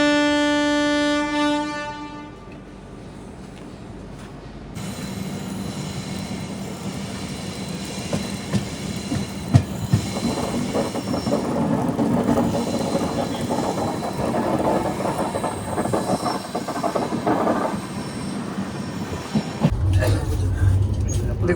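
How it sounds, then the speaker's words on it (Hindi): Passenger train on a long-distance journey from Kanyakumari to Kashmir, heard from inside as a steady rumble and rattle of the carriage on the rails, with a horn-like tone at the start and continuous loud rolling noise throughout. "अभी तो लंबे 2 दिन, और तीसरे दिन भी पूरा सुबह से लेकर शाम तक हम ट्रेन में ही लगभग रहने वाले हैं कश्मीर तक।"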